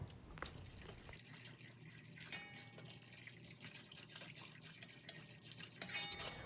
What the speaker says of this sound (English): I'm going to place 2 scoops and whisk it into the water so that it dissolves.